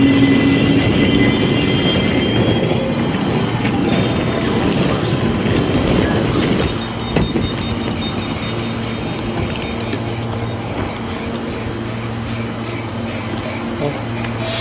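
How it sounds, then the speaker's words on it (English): A train rolls past at a Brisbane station, giving a broad, steady rumble nearby that drops slightly in loudness about halfway and carries on with a lighter mechanical hum. "Nakita niyo yung train na ganyan yung kulay."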